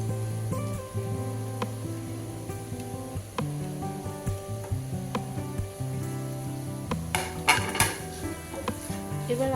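Melted cheese and grated paneer sizzle in a frying pan for crispy paneer cutlets, a soft steady crackle under a low hum, with occasional scrapes and taps of a spoon stirring against the pan.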